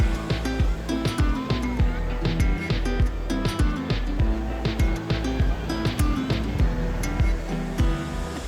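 Loud, continuous roar of surf at Perupalem Beach with repeated rushing pulses of strong breaking waves, close and forceful, and wind-like noise throughout.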